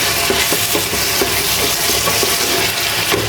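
Onion, potato and chili fry in hot oil in a wok, giving a dense, steady sizzle and crackle that runs loud and unbroken throughout.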